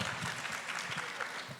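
Audience applause during an interview event, a steady wash of clapping heard throughout the short stretch with no talk over it.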